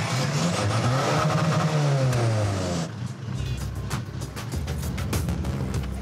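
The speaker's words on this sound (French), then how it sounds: "quand j'accélère, je peux être à plus de 200 facile, sans forcer" Modified street racing car on Réunion accelerating hard, the engine note climbing loudly through a gear, then a rough, rumbling drone with popping bursts as it keeps pulling, close by with no talk.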